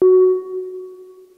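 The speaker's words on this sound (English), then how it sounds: "I want to start using the slow reverb as an effect on all of this," Sustained FM synthesizer drone from an Arturia MicroFreak, one steady low tone with a faint upper partial, struck sharply then slowly fading under a long slow reverb tail, heard alone.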